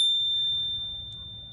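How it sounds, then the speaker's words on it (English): A new e-bike bell gives one bright, clear ding that rings on as a steady sustained tone and slowly fades over a quiet background. "And I like the new bell."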